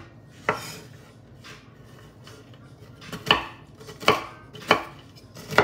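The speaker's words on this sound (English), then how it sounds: "I'm not finely chopping them, I'm coarsely chopping them" A knife coarsely chopping salted pecans on a cutting board, with a few isolated cuts followed by sharp, evenly spaced chops near the end, close and clear in a quiet kitchen with no talking.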